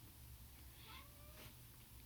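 A domestic cat meows indoors, faint, with a couple of soft, drawn-out calls in the middle over a low background hum.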